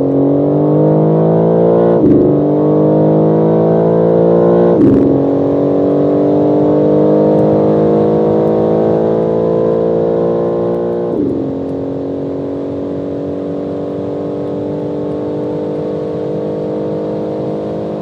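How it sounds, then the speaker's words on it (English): A BMW M4 engine at full throttle, a loud continuous roar with rising harmonic pitch, broken by sharp dips at a few gear changes before it settles into a steady high-speed drone. "push the pedal to the metal."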